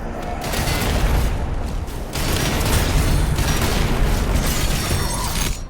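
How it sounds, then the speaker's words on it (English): The Combat Shotgun firing in DOOM: The Dark Ages, loud blasts over a dense layer of metallic mechanical clanks and crunching impacts, with a couple of sharper shots standing out across almost six seconds. "The Combat Shotgun."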